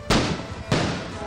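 Community fireworks burst during a New Year 2024 celebration in Tondo, Manila: two loud, close explosive bangs roughly half a second apart, each trailing off into a crackling decay.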